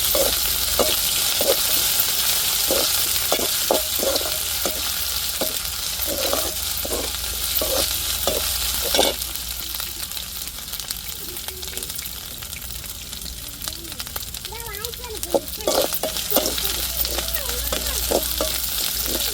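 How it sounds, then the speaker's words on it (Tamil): Ginger and garlic sauté in a hot pan with a strong, continuous sizzle, punctuated by a regular series of spatula clicks and scrapes as the mixture is stirred. "இப்போ இஞ்சி பூண்டு சேர்த்துக்கிடுவோம் நல்லா பச்சை வாடை போட்டுட்டு நல்லா வதக்கிட்டுருவோம் இஞ்சி பூண்டை"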